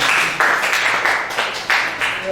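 A school audience claps for a student team's presentation on waste management, a brief burst of group clapping heard in uneven, pulsing waves with mixed voices underneath.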